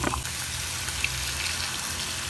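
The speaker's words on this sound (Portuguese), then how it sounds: "Acrescentar água pra ela cozinhar e ficar bem gostosa." Water is poured into a pan of sautéing pumpkin with garlic, producing a steady, close hissing rush of liquid over hot food with a faint splash near the start.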